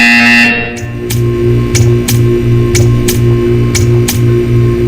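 A buzzer in the Portal 2 video game sounds in a string of short, evenly spaced electronic bursts over a loud, steady low hum.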